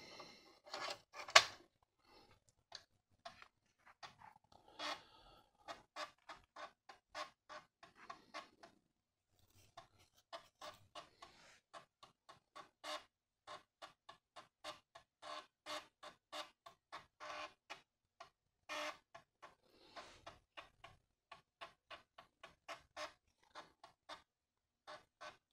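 An Amiga floppy drive boots a Workbench 3.0 disk with a long run of sharp, irregular mechanical clicks and ticks, some in quick bursts and others spaced apart, heard close and alone.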